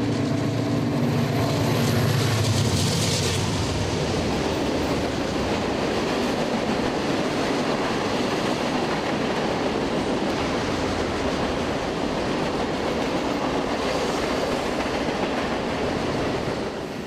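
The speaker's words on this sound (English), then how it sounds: "with Norfolk Southern putting train after train through here" A Norfolk Southern freight train rolls past in Lafayette, a loud continuous roar of wheels and cars with rhythmic clatter on the rails, rumbling engine noise at the start, sustained and close throughout.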